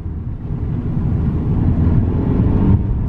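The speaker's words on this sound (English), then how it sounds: "there's a lot of engine noise" Loud, steady engine drone with a deep rumble, rising slightly in intensity, heard from inside a moving Lexus IS250 or Mercedes C200 in sports mode with no talking.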